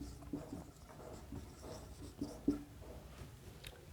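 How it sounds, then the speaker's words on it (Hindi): Chalk or marker scratches in short, repeated strokes across a classroom board while a geometry proof is written out, faint and close, with a slightly sharper tap near the middle and no talking. "यहां पे लिख देंगे"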